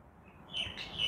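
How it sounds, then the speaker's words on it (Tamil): A short, high chirp from a sparrow, faint and a little distant, repeated briefly against a quiet background. "குருவி சத்தம் கேட்குது"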